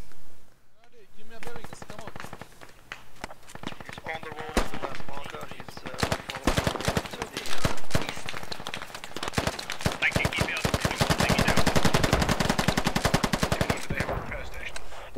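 Dense automatic gunfire crackles through a firefight in the military shooter game Squad, rapid bursts overlapping into a near-continuous loud barrage with a voice speaking over it.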